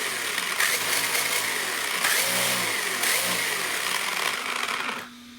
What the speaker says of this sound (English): listen to the transmission when I cuff the throttle. Just got a very rough sounding transmission